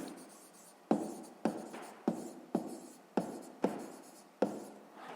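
A pen writes on paper while maths work is noted down, making seven crisp, evenly spaced strokes. Each one scratches sharply, then fades, with quiet pauses between.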